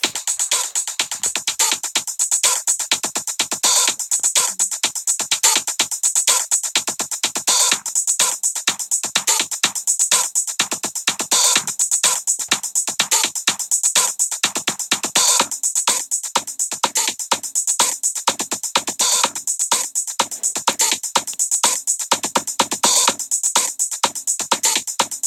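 Synthesizer monster song from the My Singing Monsters game, made of looped electric percussion: a relentless rapid stream of bright, buzzy electronic hits at steady loudness throughout.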